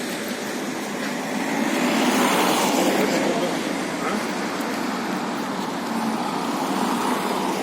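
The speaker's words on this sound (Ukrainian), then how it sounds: "Їздять великі машини іноді." Large vehicles roll past on a mountain road in the Carpathian town of Yaremche, a steady broadband traffic roar that swells slightly around the middle and holds on without break.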